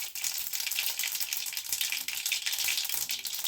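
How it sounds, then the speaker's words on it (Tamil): Mustard seeds spluttering in hot oil for tempering a curry leaf and coriander thokku: a close, continuous crackling sizzle with dense little pops throughout, no talking. "கடுகு நல்லா பொரிஞ்சிருச்சு."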